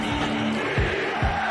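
Basketball fans in an arena chant loudly in support of their team: a dense, continuous roar of many voices with rhythmic swells and shouted bursts, close and unbroken throughout.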